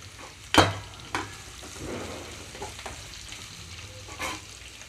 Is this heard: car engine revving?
no